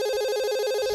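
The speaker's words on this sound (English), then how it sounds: "Then suddenly the phone rings." A mobile phone rings in the visual novel game Katawa Shoujo, a steady electronic ringtone with a clear pulsing tone, loud and alone for about a second.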